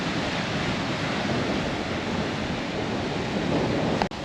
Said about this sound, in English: After days in the dust, we'd made it to the sea, just in time for one last sunset over the ocean.